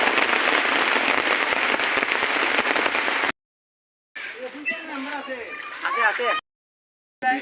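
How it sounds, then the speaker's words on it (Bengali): Heavy rain roars steadily for a few seconds, then cuts out; afterward voices talk in bursts. "এই দেখো অনেক জোরে বৃষ্টি চলে এসেছে।"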